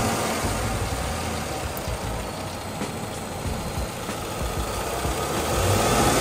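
A car engine fitted with a JLT Performance cold air intake idles with a steady, close, rumbling drone, swelling slightly toward the end, with no talking over it.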